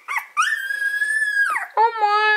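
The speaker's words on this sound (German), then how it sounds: "Und das ist dieses Welpe, das ist dieser Welpe, den wir behalten werden." A puppy whimpers and whines in high, drawn-out, tonal cries, one long plaintive whine followed by a shorter rising yelp, close and clear with no talking.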